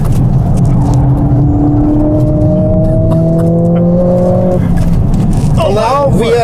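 A Mercedes-AMG with an automatic gearbox driving the Nürburgring, its engine droning and rising in pitch through gears over a constant rush of road and wind, heard from inside the car, with a loud whine near the end.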